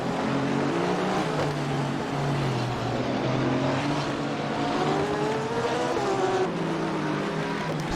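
A McLaren GT3 race car screams through a sim racing GT3 series event at the Nürburgring, its engine droning steadily and loud with shifting pitch, mixed with other cars on track.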